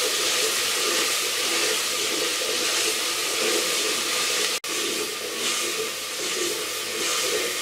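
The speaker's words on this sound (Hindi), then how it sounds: "चम्मच चलाते हुए मैं इसको भून लूँगी" Masala with a spoonful of yogurt frying in a pan for fish curry, giving a steady, fairly loud broadband hiss and sizzle throughout, with one brief dropout partway through.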